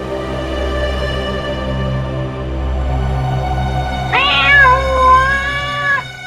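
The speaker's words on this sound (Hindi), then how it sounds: "ये बिल्ली की आवाज कहां से आ रही है?" A cat meows once, a drawn-out nearby cry heard over a low steady background hum.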